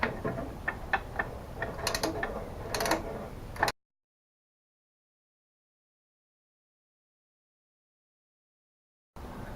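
A ratchet fitted with an 11 socket turns engine bolts in quick bursts of close, crisp clicking for a few seconds, followed by a long silence before faint noise returns.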